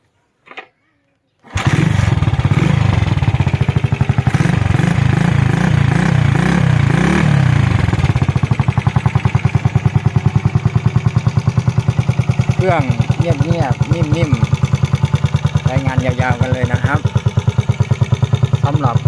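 A classic JX 114C motorcycle engine is keyed on and started after a brief quiet moment, then runs with a steady, close, loud idle and a few short blips of revving. Someone talks over it.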